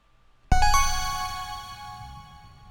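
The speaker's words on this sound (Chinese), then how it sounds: "那这边这个是解开谜题的音效" The puzzle-solved sound effect from the video game Carto is a single bright musical chime that strikes suddenly after near silence, layering ringing tones and low resonance that then fade slowly, heard alone.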